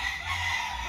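At a cockfighting gallery, a large rooster's crow carries briefly and evenly over a low hum, fairly close and with no one speaking.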